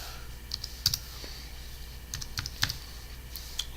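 Fingers typing code on a computer keyboard, a few scattered close key clicks and taps in short bursts over a quiet room hum, with no talking.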